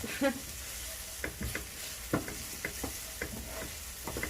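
Spaghetti with seafood sizzles in a hot pan while a utensil scrapes and stirs in short, irregular strokes, fairly quiet and close, with no voices.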